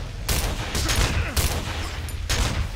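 Rapid gunfire rattles in loud bursts during a Cry of Fear co-op session, several volleys crackling close over about three seconds with no talk.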